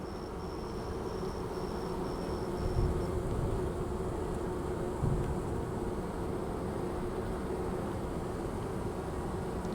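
Honey bees at a hive fan their wings to spread queen pheromone, making a steady, continuous droning hum at moderate distance. It has a faint high whine and no voices.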